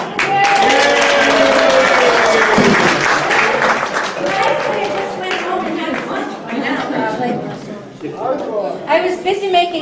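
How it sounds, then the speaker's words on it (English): A congregation claps for a grand entrance, steady applause mixed with chatter and some laughter that gradually thins out into talking voices. "Everybody clap."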